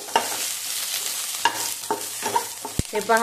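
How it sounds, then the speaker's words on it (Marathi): Onion sautéing in a little oil in a pan until lightly golden, with stirring scrapes and bumps over a soft sizzle; a brief voice is heard near the end. "आपला जो कांदा आहे तोही हलकासा सोनेरी रंगावरती भाजलेला आहे।"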